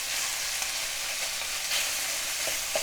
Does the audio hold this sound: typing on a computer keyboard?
no